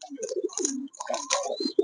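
Pigeons coo in short repeated bursts, fairly close and clear, with brief gaps between calls and a faint higher squeak near the end.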